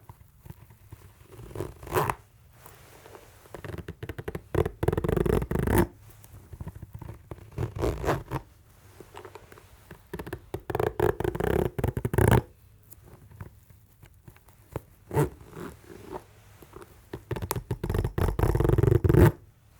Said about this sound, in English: It's got this very nice, convenient zipper if you need to slide on and off.